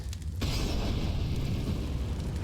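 A grenade detonates in Counter-Strike during an ESL Pro League match: a sudden loud boom after a brief quiet moment, followed by a long rumbling roar that stays strong to the end.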